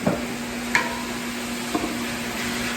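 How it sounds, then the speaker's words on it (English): Meat sizzles steadily in a pan for a baked spaghetti cake, with a few sharp utensil scrapes and clicks as it gets stirred, close and clear with no talking. "Don't forget to stir your meat every now and then."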